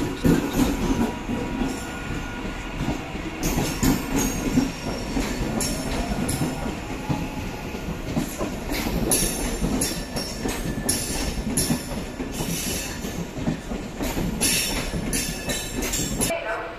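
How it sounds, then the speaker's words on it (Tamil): The Mayiladuthurai to Salem passenger train rolls into a station platform, its steady loud rumble carrying rhythmic wheel clatter and metallic squeals close by for the whole stretch. "நாம் ட்ராவல் பண்ணுற ட்ரெயின் பார்த்தீங்கன்னா மயிலாடுதுறை டு சேலம் பிளாட்ஃபார்ம்குள்ளே அரைவ் ஆகிட்டுருக்கு"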